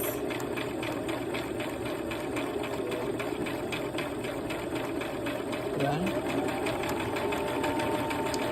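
A sewing machine stitching fabric along straight and curved lines runs with a rapid, even mechanical whir and ticking throughout, close and steady, while a person talks over it.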